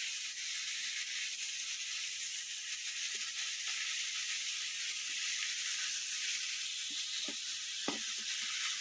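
Fish fries in a pan with a steady, quiet sizzling hiss from start to finish, broken by a few faint pops and crackles, with no voices.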